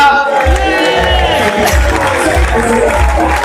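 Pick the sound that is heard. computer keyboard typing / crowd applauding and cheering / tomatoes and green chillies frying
crowd applauding and cheering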